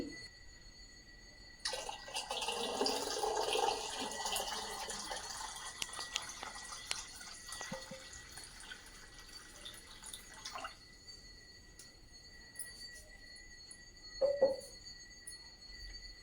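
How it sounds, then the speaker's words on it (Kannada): Water is poured into a decorated clay pot used for cooling drinking water. The steady, fairly quiet pour runs for about nine seconds, then a few faint drips and a small knock follow. "ತುಂಬ ತುಂಬಿಸಿದ್ದೇನೆ ನೀರು"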